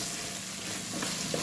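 About 2¼ kg of mutton sizzles loudly in a hot tomato tempering as it is stirred, a close, continuous frying hiss with soft scraping movements.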